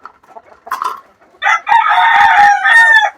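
A large crested rooster of a big breed crows loudly and close, one long drawn-out call preceded by a few short clucks and soft farmyard sounds.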